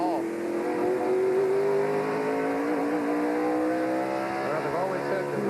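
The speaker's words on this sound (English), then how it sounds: "So they really do accelerate like" A 1992 NASCAR Winston Cup stock car coming off the brakes and accelerating down a Martinsville Speedway straight, its engine pitch rising steadily and loudly, with commentary running over it.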